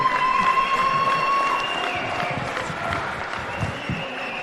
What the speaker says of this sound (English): let's please have a round of applause for both boxers